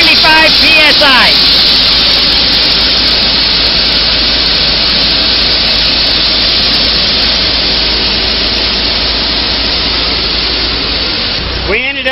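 High-pressure water jet from a KEG Torpedo nozzle running at about 1,675 PSI and 57 gallons a minute, striking a metal impact plate; a loud, steady broadband roar and hiss holds for about ten seconds, then cuts off near the end.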